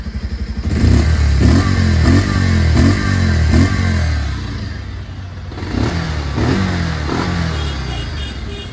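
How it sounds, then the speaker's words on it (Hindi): A 2023 Bajaj Pulsar 150 BS7 OBD-2 motorcycle exhaust sounds up close and loud, idling and then blipped through several quick throttle revs in a rising and falling rhythm. "तो चलो अभी एग्जॉस्ट नोट आप लोगों को सुना देता हूँ।"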